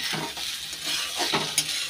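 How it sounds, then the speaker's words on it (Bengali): Radish sizzles and fries in a wok while a utensil stirs and scrapes with a few light clinks, steady and close. "আর এখন এই মূলোটা ভাজবো"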